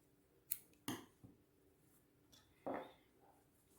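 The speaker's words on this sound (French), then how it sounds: "Une petite maille en l'air et on coupe le fil." Scissors snip through crochet yarn in a few quiet, sharp cuts spaced apart, with soft handling noises between them and no talking.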